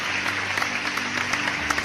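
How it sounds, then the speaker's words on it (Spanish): A church congregation claps continuously and loudly in praise during a worship service, a steady dense patter of many hands with no voices over it. "Más fuerte el aplauso porque es para Dios."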